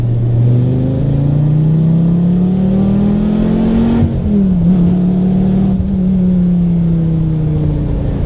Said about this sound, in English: The car is very loud in every regard, in terms of road noise, wind noise, engine noise